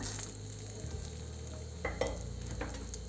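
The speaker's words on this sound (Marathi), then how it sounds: "रवा घालून फिरवून घेऊ असं छान कमी गॅसवरच फिरवायचं" Semolina roasts in ghee in a hot pan over a low flame, giving a steady soft sizzle with scraping stirring strokes and a few louder clinks of the spoon against the pan.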